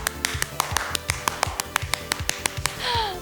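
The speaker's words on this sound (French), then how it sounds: "Maintenant, on applaudit!" Sharp, evenly spaced claps ring out close and clear during a children's exercise session, about a dozen quick hand claps in a steady rhythm with a faint voice toward the end.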